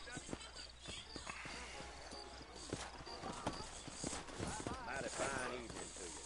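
Horse hooves clip-clop in an even rhythm while riding in the video game Red Dead Redemption, close by and mixed with tack rattles as voices talk over them.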